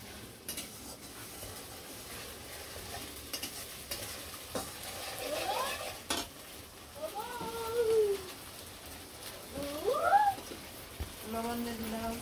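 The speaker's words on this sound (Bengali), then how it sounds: "মশলাটা আমি ভালো করে কষানো।" A ginger, garlic and green chili spice paste with onions stir-fries in a pan, a soft sizzle with scraping and occasional clinks of a utensil while a voice talks intermittently over it.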